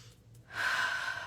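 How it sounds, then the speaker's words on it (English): During a guided meditation, one slow, deep inhale is drawn in through the nose and mouth. It is soft at first, then swells into a close, airy rush lasting under a second, with no talking. "take a nice deep breath"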